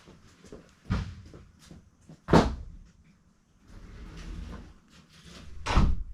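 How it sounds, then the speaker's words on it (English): A house door being shut, with several wooden knocks and thumps, one sharper bang in the middle and another near the end, plus quieter handling noises between them. "I gotta go close my door so they don't see what I'm doing in here."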